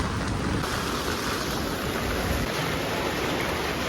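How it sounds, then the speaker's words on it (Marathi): Heavy rain pours in a steady, dense roar close to the microphone, broadband and unbroken, with buffeting wind noise and no voices. "खूप जास्त पाऊस येत आहे"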